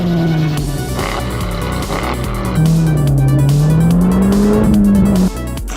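A 2017 Audi RS6 Performance C7 with a 4.0 biturbo engine drives on the road, a close, loud engine drone whose pitch rises and falls with throttle changes and shifts, with a louder surge toward the end.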